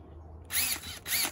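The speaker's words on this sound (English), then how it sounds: "DeWalt drill." A DeWalt power drill whirs up close in two short bursts, each a loud high-pitched motor whine lasting about a third to half a second, separated by a brief pause, during a security camera installation.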